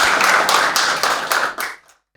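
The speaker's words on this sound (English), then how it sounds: "let's have a huge round of applause for both of them again" Audience applause for two civil services exam toppers at a talk event, a dense burst of clapping that thins out and fades to near silence over about two seconds.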